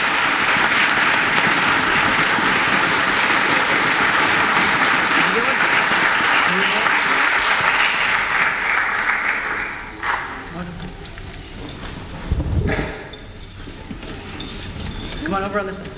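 Concert audience applauding a school orchestra at a spring concert, loud sustained clapping that fades out after about ten seconds, followed by quieter room noise, shuffling and a few voices.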